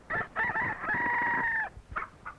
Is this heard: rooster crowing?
yes